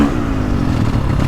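A KTM 450 Factory Edition dirt bike engine on map 2 revs hard and close, a dense buzzing roar that stays loud and steady across the brief moment.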